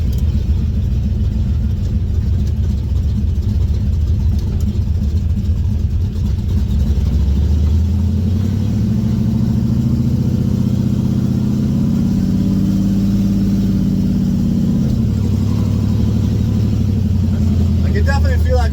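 A Chevrolet Vega engine on a test drive after a transmission swap, giving a steady, loud low rumble that swells and eases as the car pulls away and accelerates.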